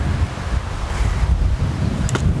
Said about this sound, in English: I hope it don't get as windy as this.